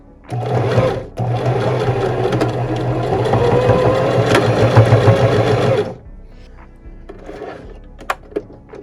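A sewing machine runs steadily while stitching a shirt hem, a loud continuous mechanical whir for several seconds after a brief start and stop, then falls quiet with a few faint clicks.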